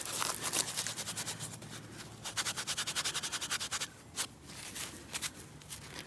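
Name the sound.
rubbing dirt off a copper coin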